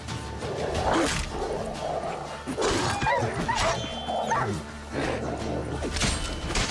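Dogs barking and yipping in Witcher 3: Wild Hunt, a scuffle of sharp repeated barks and whimpers close by over a steady game ambience, with brief speech-like sounds mixed in.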